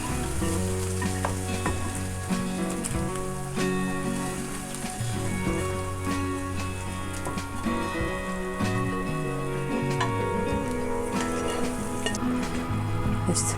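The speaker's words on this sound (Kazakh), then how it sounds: "5 минут қуырылған зажаркамызды сорпамызға саламыз." Fried vegetables for a Kazakh-style rassolnik with pearl barley go into a pot of broth, giving a steady close sizzle and bubbling hiss throughout, with background music playing underneath.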